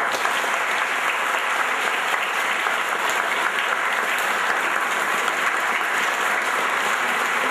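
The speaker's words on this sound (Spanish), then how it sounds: "Para todos, muchas gracias y un aplauso." A church congregation at a special-needs children's communion Mass claps steadily and fairly loudly for the full stretch, a dense, even wash of applause with no voices over it.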